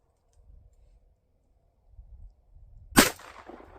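A single loud, sharp .44 Magnum gunshot cracks out at a farm pond after a quiet stretch of faint rustling, with a short decaying tail.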